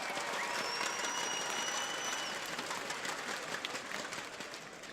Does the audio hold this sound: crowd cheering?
yes